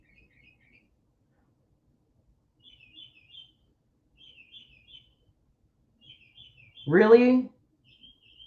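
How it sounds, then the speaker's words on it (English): Small birds chirp faintly in a treeless residential neighborhood, giving short, high, scattered calls every second or so. A single voice speaks briefly over them near the end. "How the fuck are there birds here?"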